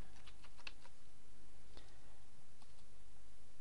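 Keystrokes on a computer keyboard entering a login, with a few scattered close taps and mouse clicks over a steady low hum, no voices.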